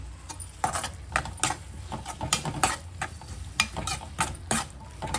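Tomato and mint masala fries in oil with a low sizzle, broken by repeated sharp clicks and scrapes of a spoon against the pan, close by.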